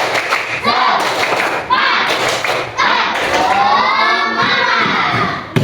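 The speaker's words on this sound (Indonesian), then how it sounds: "kita tepuk semangat ya. Ya, tepuk semangat" Primary school pupils in an Islamic religion class perform a patterned 'tepuk semangat' clap, loud rhythmic bursts of hand claps alternating with children shouting and chanting together.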